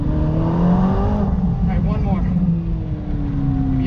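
A short-stroke car engine revs high and strained on a track, a loud close buzzing whine that rises and falls in pitch while someone talks over it.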